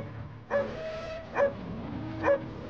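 A dog gives three short, sharp barks, evenly spaced, close by and fairly clear over a quiet room background.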